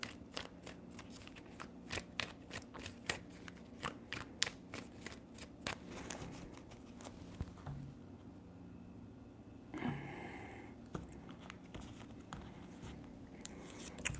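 Tarot cards are shuffled close by in a run of crisp, rapid riffles and slaps, then a looser rustle of handling near the end, quiet and without talk.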